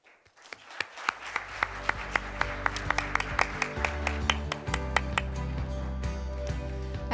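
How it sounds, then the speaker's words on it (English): Audience at the Seoul International Competition Forum applauds its panelists, steady clapping under a sustained low musical tone, with sharp tapping peaks recurring at a regular beat across the whole stretch. "Please join me one final time to show appreciation to our panelists with a warm round of applause"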